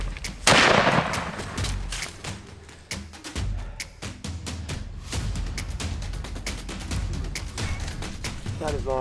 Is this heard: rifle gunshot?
yes